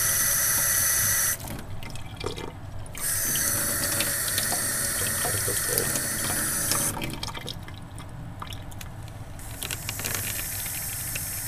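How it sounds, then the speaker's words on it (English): A kitchen faucet runs cold water into a sink, a steady loud hissing splash that briefly softens and changes tone twice as the stream shifts, continuing for several seconds. "It's by adding the faucet."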